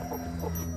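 A broody hen sitting on a clutch of eggs gives a low, grumbling cluck, close and continuous over a short moment.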